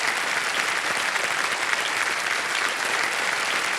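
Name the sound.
studio audience applause on a game show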